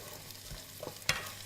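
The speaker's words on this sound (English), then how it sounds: "and actually saute and not stew." Carrots and other food sautéing in a hot pan, a faint steady sizzle with a few soft stirring scrapes and one sharper clink of a utensil, heard close.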